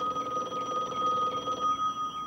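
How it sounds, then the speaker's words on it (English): A telephone bell rings steadily in a quiet interior, its bright trilling tone repeating without pause for a couple of seconds, with no speech over it. "Your phone is ringing."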